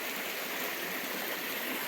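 A creek flows in a soft, even hiss and trickle, faint and constant.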